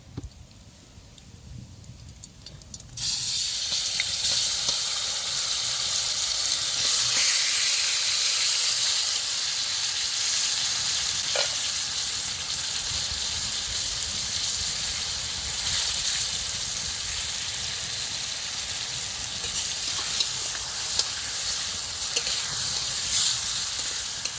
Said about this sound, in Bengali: এবার আমি কড়াতে মাছগুলো দিয়ে দিচ্ছি।